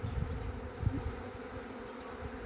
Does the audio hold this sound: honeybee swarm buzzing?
yes